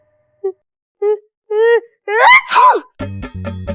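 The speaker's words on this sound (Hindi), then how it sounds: "अब छींकता ही जा रहा है" Someone sneezes repeatedly, a series of build-up breaths growing longer and louder and ending in an explosive sneeze, close and loud, then followed by a short burst of music.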